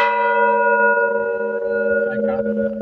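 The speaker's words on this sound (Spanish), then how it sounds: "Tocando las campanas." A large church bell rings out with one strong stroke during a town fair procession in Santo Tomás Atlixilihuian, its rich tone humming and slowly fading, with faint background chatter underneath.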